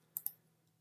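Two quick computer mouse clicks in close succession, crisp and near, followed by a faint third tick over a low steady hum.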